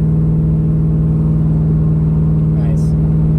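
A cammed LQ4 V8 swapped into a Firebird Trans Am with solid motor mounts idles loud and close, a steady lumpy rumble with a strong low drone, heard from inside the car.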